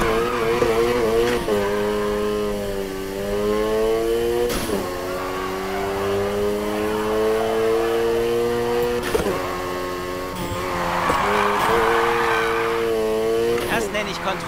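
A car drifts in the video game Need for Speed Heat, with a loud sustained engine drone rising and falling in pitch and a tire squeal breaking through toward the end.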